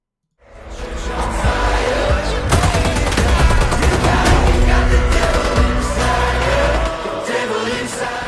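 Gunfire fills a fast-paced first-person shooter video game: loud, dense automatic bursts and booming shots crowd together almost without a break, then stop abruptly near the end.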